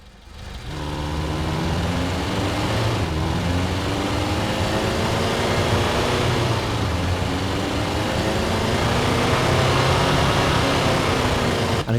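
A synthesized car engine effect built in Krotos Igniter, a steady sustained drone with a faint swell midway, loud and continuous with no voices.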